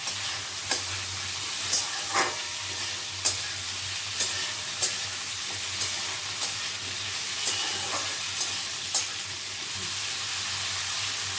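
Eggplant frying in a pan for a summer thali, with a steady sizzling hiss under a run of regular scraping stirs from a utensil, close and moderately loud with no talking.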